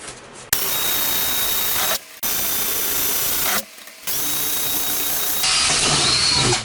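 Power drill with a dull bit struggling through 3mm wood: three close, loud grinding bursts separated by short pauses, the last one rising in pitch, with no talking.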